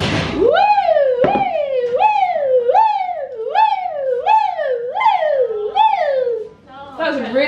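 A voice mimics an ambulance siren, wailing up and down in a steady rising-falling pattern about seven times, loud and close.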